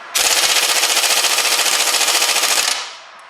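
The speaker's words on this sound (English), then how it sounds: "17mm, and get the air gun on that." A pneumatic air impact gun hammers a tight 17mm brake carrier bolt on a Suzuki Grand Vitara during a front pad and disc job, one loud, close, rapid rattling burst of about two and a half seconds before it cuts off.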